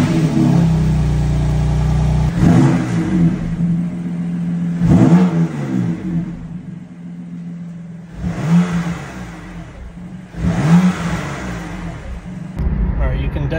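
A BMW S55 twin-turbo engine fitted with an upgraded intake filter revs in repeated swells, each rising whoosh of turbo spool loud and close, with someone talking over the engine noise.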